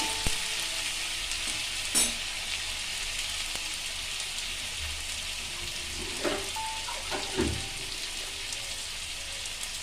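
Steady sizzling of potatoes, pointed gourd and prawns frying in a pan, with occasional stirring clatters, close and continuous with no talking.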